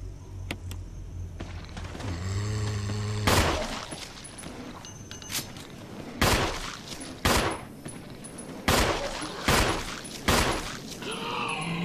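Gunfire in the Resident Evil HD Remaster video game, heard as a series of loud, sharp shots spaced about a second apart after a few quieter game sounds, with no talk over it.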